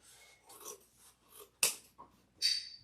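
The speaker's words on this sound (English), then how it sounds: "I just put my scissors underneath it" Scissors trim excess fabric on a no-sew wreath: faint, quiet rubbing and snipping sounds, several soft cuts with one sharper snip in the middle and a brighter one near the end.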